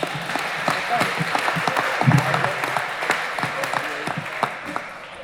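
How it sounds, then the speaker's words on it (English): Audience applause at a high school athletics signing day, a steady wash of many hands clapping indoors throughout, with faint voices mixed underneath. "Round of applause for Anthony Cozza."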